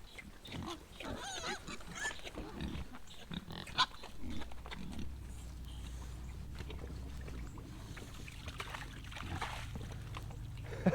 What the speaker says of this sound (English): One of the pigs grabbed the bucket and drug it out from the rest of them and then dumped it out.